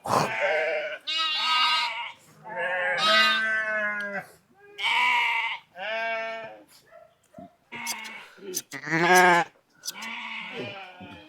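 Lamb bleating for its mother, a string of repeated, close, loud wavering cries with short pauses between them, among a flock of sheep with shepherds.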